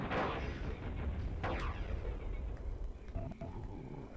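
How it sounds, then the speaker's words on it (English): A video game explosion bursts out with a heavy boom and rumbling debris, followed by sharper blasts and crackles, all fairly loud and continuous. "So there's a big explosion thing. I definitely want to blow that up."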